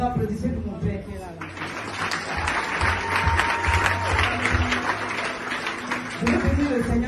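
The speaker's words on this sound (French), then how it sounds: "Applaudissez pour mon père qui est là." Applause from a church congregation during a testimony gathering, continuous clapping mixed with voices and background music, rising and falling over several seconds.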